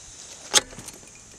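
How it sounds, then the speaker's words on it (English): Keys jangle in a brief, bright burst near the start, beside a car with about 240,000 miles on it, followed by faint rustling and low background hum. "Where are my keys? They're in my pocket."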